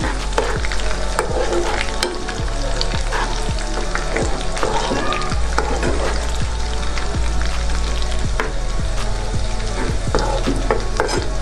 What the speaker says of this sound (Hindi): अब इसी के अंदर हम शामिल कर देंगे सुरख मिर्च और ज़ीरा। इसको भी हल्का सा फ्राई करेंगे।